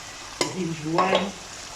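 Potatoes and eggs fry in a pan of curry, with a spatula scraping and stirring through a short burst of sizzle in two scraping strokes. No voices are present.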